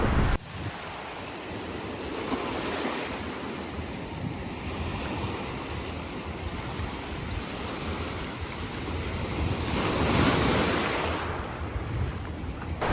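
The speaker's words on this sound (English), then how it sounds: "the waves are, well, they're not bad" Ocean surf at a beach in Afono, American Samoa washes in continuously with a broad hiss, swelling louder as a wave breaks near the end, with wind buffeting the microphone throughout.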